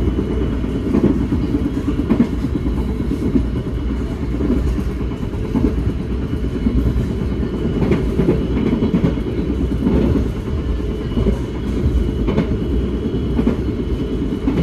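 The KA Purwojaya executive train runs along the tracks at speed between Cilacap and Jakarta, heard from inside the carriage as a loud, steady rumble with faint rhythmic rail clatter throughout.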